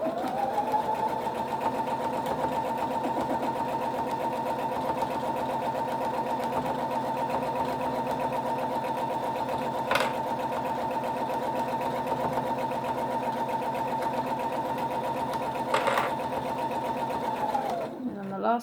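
A sewing machine stitches along the edge of a kitchen towel in one long, steady whirring run, then stops near the end, with a couple of sharp clicks along the way.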